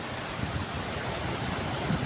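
Steady, broad rush of ocean surf with a low rumble, continuous and fairly loud, with some wind noise on the microphone.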